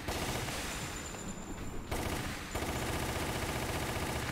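Dense, rapid gunfire from the Resident Evil: The Umbrella Chronicles game, loud bursts of continuous shooting with a brief break partway through, no voices.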